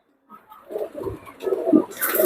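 A male Mysore pigeon gives a soft, close, throaty coo in a few short rolling pulses that grow slightly louder toward the end.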